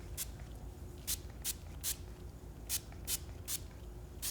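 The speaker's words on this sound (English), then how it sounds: "I'm gonna go in with that Boing spray." Short hissing bursts of Boing spray misted onto wet hair, about eight quick spritzes in an uneven rhythm, close and fairly quiet against a soft background.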